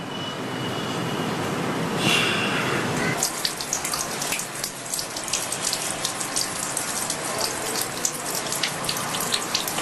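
Water running hard from a tap in a bathroom, a loud continuous splashing rush that shifts in character partway through as the stream hits a different surface.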